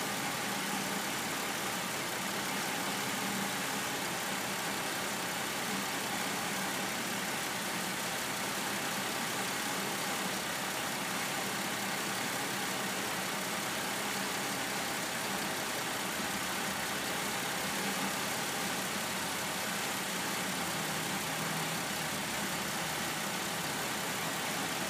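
A 2003 Pontiac Aztek with a 3.4 engine idles in a steady, even drone, continuous and moderately close for the whole stretch, with no talk over it.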